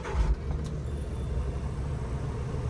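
A Suzuki Every minivan engine catches with a short burst as it starts, then settles into a steady low idle rumble that carries on alone, close by.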